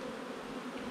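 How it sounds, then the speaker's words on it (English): Honey bees shaken off a brood frame during beekeeping in Jamaica make a dense, steady buzzing hum that fills the whole moment, close and continuous without pauses. "we're gonna shake off all the bees here"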